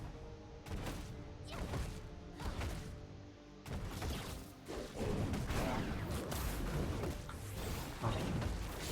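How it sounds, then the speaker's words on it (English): Explosion blasts in a League of Legends match, a series of dull booming impacts and crashes layered over game sounds, fairly quiet throughout with no speech over them. "Don't get hit by this explosion."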